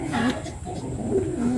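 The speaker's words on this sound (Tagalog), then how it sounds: "So tignan yung mga kalapatids, oh." Pigeons cooing close by in a loft, a few soft throaty low coos rising and falling over a steady background murmur.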